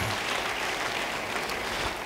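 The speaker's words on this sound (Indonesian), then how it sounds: "beri tepuk tangan bagi dia" Applause from a church congregation during a sermon, a dense steady wash of many hands clapping that fills the whole short stretch at even loudness, with no voices over it.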